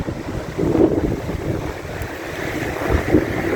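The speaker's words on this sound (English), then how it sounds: "this is absolutely incredible river. And it's moving so fast." The fast-flowing Gartempe river in France rushes steadily with a broad, continuous roar, heard alongside gusty wind buffeting the microphone, with no voices.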